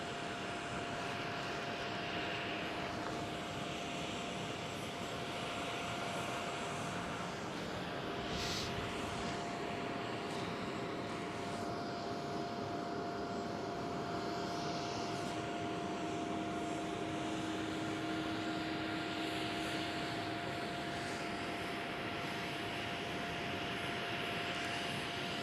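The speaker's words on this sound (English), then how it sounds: "KLM City Hopper E190 arriving on runway 27." A KLM Cityhopper Embraer E190 jet arriving on a runway at Schiphol Amsterdam, a loud, steady roar of jet engines that holds for the whole stretch, with a faint high whine above it.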